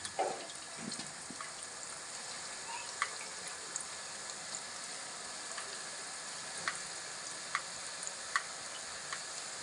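Chakli dough frying in hot oil over a medium flame gives a steady, even sizzle with small crackling ticks scattered throughout, close but fairly soft.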